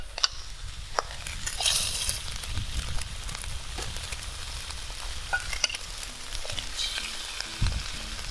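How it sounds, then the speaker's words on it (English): Eggs frying in a little oil in a pan while instant noodles are stir-fried, a loud, continuous close-up sizzle and crackle with occasional sharp pops. "So put in a little bit of oil. And we are going to add our eggs."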